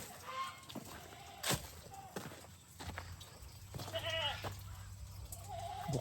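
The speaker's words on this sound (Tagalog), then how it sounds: "Kapakakain lang ng kambing, umiyak na naman." A goat that has just been fed gives several wavering bleats, near and fairly faint, over a quiet farmyard background.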